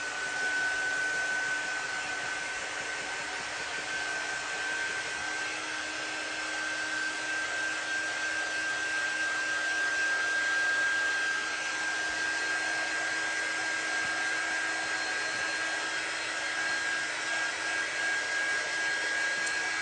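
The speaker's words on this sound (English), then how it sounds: "So this is just one of my air dryers." A hair dryer blows steadily on painted paper cutouts, a constant close whooshing hum with a thin high whine that runs unbroken and alone for the whole stretch.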